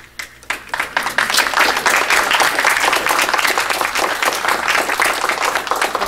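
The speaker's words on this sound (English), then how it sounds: "call a smattering of applause." A smattering of audience applause at a lecture rises after a brief pause and holds as steady, fairly loud clapping from a crowd.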